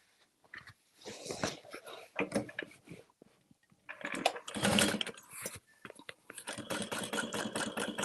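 Sewing machine top stitching a tote bag, running in bursts: a short run, a pause, then longer continuous stretches of fast mechanical whirring close by, with a brief stop midway.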